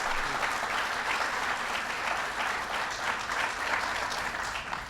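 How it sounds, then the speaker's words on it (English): Sustained applause from a large audience honoring Vice President Joe Biden, a dense even roar of many hands clapping throughout, steady and moderately distant with no voices standing out. "so give Joe Biden a big round of applause"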